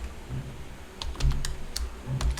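Light tapping on a computer keyboard, a short run of soft, quick keystrokes in a quiet room.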